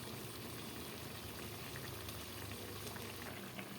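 Chicken sizzles steadily in a hot pan, browning for afritada; a dense, even hiss of frying runs throughout, fairly quiet and unbroken, with no talking.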